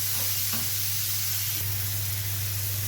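Tomato going into a frying pan of sizzling garlic, a steady close hiss of frying with a few brief soft clicks and pops.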